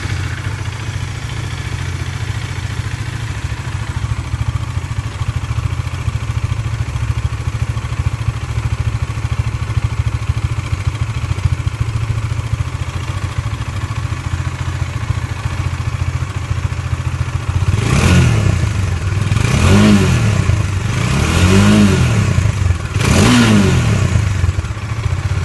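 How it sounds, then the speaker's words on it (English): Stock exhaust of a 2018 Bajaj Dominar 400 motorcycle, idling steadily for a long stretch before four sharp revs blip upward in quick succession, loud and close, with no talking. "I just want to take up a quick video to show you all the exhaust note of this beast."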